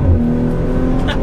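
A Maserati Levante S SUV with a fast-shifting automatic gearbox pulls hard under acceleration, its engine note loud and close, a steady roar running the whole brief moment with no voices.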